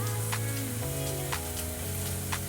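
Soaked Mysore dal lentils hit a hot frying pan for a fenugreek-leaf palya, giving a loud, dense, continuous sizzle that holds steady throughout, close up and alone.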